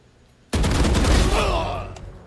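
A short burst of rapid gunfire in the Valorant video game erupts loud and close after a brief quiet moment, then rings out and fades.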